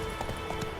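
Horse hooves clip-clopping at a quick, even pace in The Witcher 3 video game, a steady near rhythm of hoofbeats lasting under a second with no voices.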